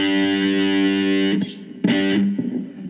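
Three-string cigar box guitar played through a Roland Micro Cube GX amp with reverb: a sustained distorted chord rings, then cuts off and short strummed bursts follow.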